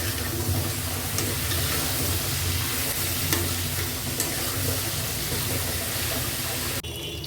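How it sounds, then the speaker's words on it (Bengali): A fish curry base seasoned with salt and turmeric fries in a pan for a bottle gourd and lentil-dumpling sarputi curry, sizzling loudly and steadily under repeated stirring scrapes, then cutting off abruptly near the end. "ভালোভাবে নাড়াচাড়া করে ভাজা ভাজা করে নেব কয়েক মিনিট ধরে"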